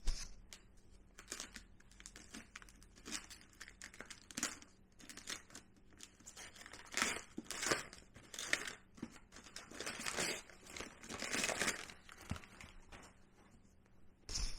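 Wrapping being torn and crinkled off a wrapped book package, irregular crackling rustles and rips close by, with no talking.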